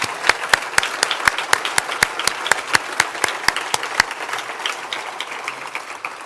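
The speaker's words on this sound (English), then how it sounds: "Will you give her another round of applause?" A conference audience gives a round of applause, with steady, evenly spaced claps close at hand standing out over a broader, continuous bed of room-wide clapping that persists throughout.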